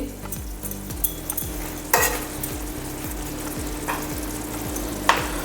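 Garam masala and a little ghee going into a pan of dahi baingan (eggplant in yogurt), with a gentle continuous sizzle and a few sharp spoon taps against the pan, close and unaccompanied by speech.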